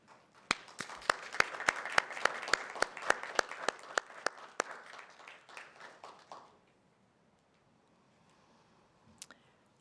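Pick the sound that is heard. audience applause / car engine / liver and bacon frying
audience applause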